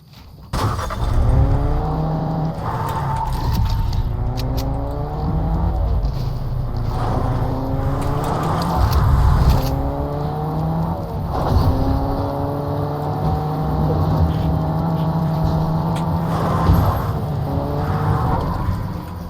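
Engine of a car in the Fortnite video game, rising and falling in pitch in repeated sweeps as it speeds along, loud and continuous over a low rumble for about twenty seconds.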